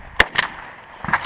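Shotgun blasts at a team shotgun match: two sharp reports in quick succession, then a third about a second later, fairly close and loud, with no talk over them.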